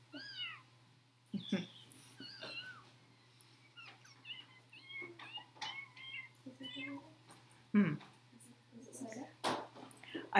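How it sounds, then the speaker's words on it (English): High, wavering kitten meows repeat through the clip, some short and some drawn out, close by, with a steady low hum and faint talking underneath. "If people want the kitten sound, it's this."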